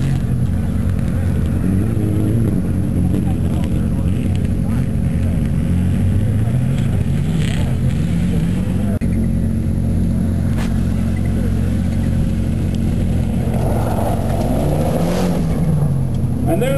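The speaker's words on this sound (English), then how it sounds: "Andrew Comrie Picard and Chrissy Beavis in their 2008 Mitsubishi Lancer Evo 10" A 2008 Mitsubishi Lancer Evo 10 rally car drives by with a steady, heavy engine rumble and revs that rise near the end, with a voice faintly audible at times.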